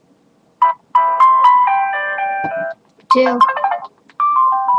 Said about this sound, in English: what ringtone do you like the best?